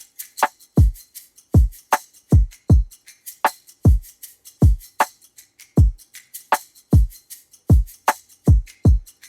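A steady electronic drum loop from the Prism Sequencer on iOS, with punchy, descending kick thumps and crisp shaker ticks keeping a quick, even rhythm.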